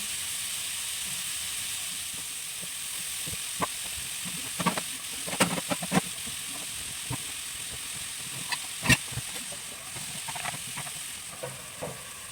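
Meat sautéing in a pan for a tomato sauce, a steady soft sizzle with scattered light pops and crackles, fairly quiet and close, with no talking.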